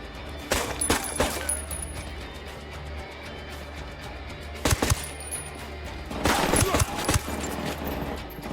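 Several bursts of squad gunfire erupt in the Spec Ops video game's Bolivia setting: a short volley near the start, a sharp pair of shots mid-way, then a longer, louder fusillade that trails off.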